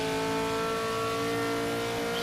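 GT race car engine in the video game Project Motor Racing: a loud, sustained high-pitched engine drone with a rich stack of harmonics, holding near-steady revs with a slight rise, continuous and close without talk.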